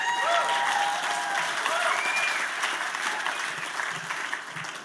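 A gala audience at the CEH20 event applauds loudly and continuously, a dense wash of clapping that tapers slightly toward the end, with a few faint voices underneath.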